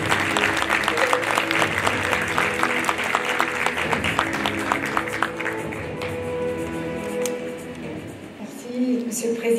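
Applause at a formal event honouring a Moroccan tourism minister, loud, dense rapid clapping that thins out after about five seconds, then a voice begins speaking.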